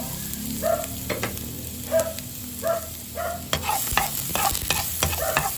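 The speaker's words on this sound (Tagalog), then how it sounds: "Naglagay ako ng mantika para igisa ang bawang at sibuyas. Lagay natin yung ating bawang." Garlic sautéing in cooking oil in a pan for fish lumpia filling, with steady close sizzling and repeated scraping stirs of a utensil at a regular pace.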